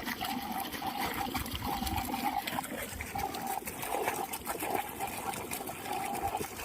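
Muddy water gushes and trickles from a newly drilled borewell, a steady splashing flow with a faint mechanical hum running beneath it.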